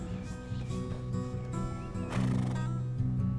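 City horses at Masterson Station Park whinny loudly and repeatedly, with soft hoof clops mixed in and no talking.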